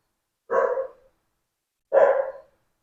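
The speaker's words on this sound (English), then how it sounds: "The dogs in the background." Two separate barks from dogs in the background, each short and clear with a pause of over a second between them, fairly faint and heard alone with no talk.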